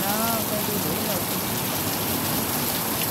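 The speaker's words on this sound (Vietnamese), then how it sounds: "Mưa lớn quá." Heavy rain pouring down outdoors during a storm near a rice field, a dense, loud, constant hiss of drops, with a voice speaking briefly at the start.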